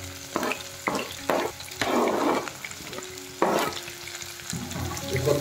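Garlic, onion and chilli fry in a pan with a steady sizzle, broken by repeated scraping stirs of a spatula at an uneven rhythm, close and clear with no talking.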